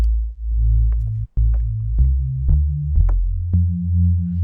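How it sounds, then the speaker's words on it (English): A deep, smooth Reese synth bass for drum and bass holds sustained notes that step between pitches, each change marked by a soft click, with no voices. "the way a Reese bass looks, it's like a harmonic series of sine waves"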